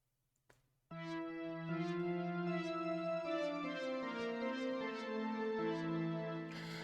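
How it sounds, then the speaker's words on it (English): A clean, sustained synth chord for a hardcore track, without distortion plugin, rings out alone, steady and bright with soft repeating pulses, after a faint click at the start. "So for this is a synth sound I want to include."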